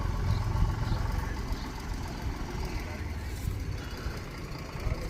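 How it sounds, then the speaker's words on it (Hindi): A tractor's engine runs at close range with a steady low rumbling drone, loud and continuous, and someone speaks over it. "देखिए ये हमारा ट्रैक्टर भी आ चुका है"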